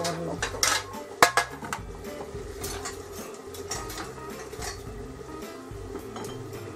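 A metal baking tray being picked up and handled in a kitchen, scattered clanks and clinks of metal against metal, with one sharper knock early and quieter rattling after.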